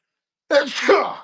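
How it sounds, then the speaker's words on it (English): After a moment of silence, a single loud sneeze bursts out close to the microphone, followed by a breathy trailing exhale. "Sorry, guys, about to sneeze"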